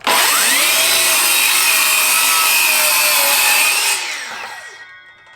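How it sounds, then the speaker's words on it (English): A Ryobi brushless cordless 7-1/4 in. circular saw makes a rip cut through plywood, a loud, steady high-pitched whine with a slight pitch sag while cutting, then the motor spins down and fades out. "Now let's do a small rip cut on this piece of plywood"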